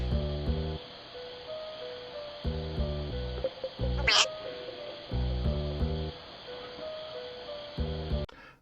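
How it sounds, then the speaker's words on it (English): A cat faces a bear, letting out a sharp, rising yowl midway that stands out against steady, repeating background music, with only faint other noise. "Now this next one is a fearless cat showing a bear"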